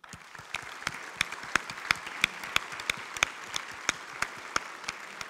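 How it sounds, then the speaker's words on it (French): An audience at a public event against illiteracy applauds together, a broad wash of clapping with sharp, evenly spaced louder claps punching through in a steady rhythm, moderately distant and with no talking. "si nous applaudissons ensemble et assez fort"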